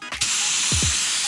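Spray gun misting a light gray, almost white primer onto a 1948 Ford during paint prep, a steady close hiss starting after a brief click and running throughout.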